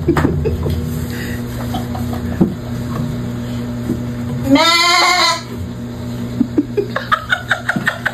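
A goat gives one loud, wavering bleat close by, preceded and followed by soft clicks and light household noises; no talking.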